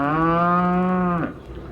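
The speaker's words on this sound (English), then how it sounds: "Well, there goes a B flat cow now." A synthesized cow moo pitched in B flat, one sustained, buzzing, tonal low for about a second, cutting off abruptly into faint background noise.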